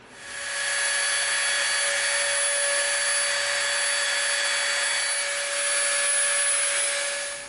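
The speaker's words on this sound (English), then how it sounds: "now we're gonna take our Dremel out and we're gonna soften up the edge" A Dremel rotary tool softens the edge of EVA foam for a Klingon knife prop: a steady high-pitched whine holds loud and even for several seconds, then spins down, with no talk.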